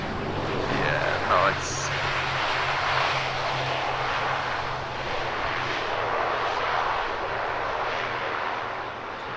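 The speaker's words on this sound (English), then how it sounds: "That's some angry prop reverser." A small ATR turboprop airliner roars loud and steady in reverse thrust as it lands at Heathrow, the sustained propeller rumble lasting throughout, with a brief spoken comment near the start.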